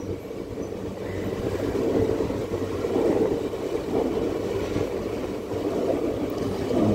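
Nagercoil–Thiruvananthapuram North passenger train number 56305 running through coconut-lined Kerala countryside, a steady close rumble of wheels and carriages with rhythmic rattling that carries on throughout.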